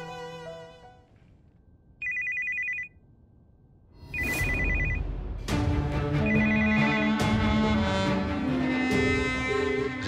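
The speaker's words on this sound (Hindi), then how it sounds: "रिंग तो जा रही है।" A phone rings with a melodic electronic tone, broken by pauses and short beeps, then swelling into a fuller ringtone tune that continues.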